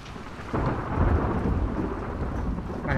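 Rain and a rumbling thunderstorm in the video game The Last of Us Part II, a steady hiss of rainfall with a low roll of thunder breaking in and holding loud, with no talking.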